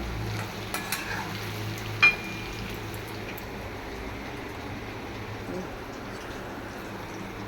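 Potato pieces fry in a pan of oil, a continuous even sizzle close by with a couple of faint clicks early on.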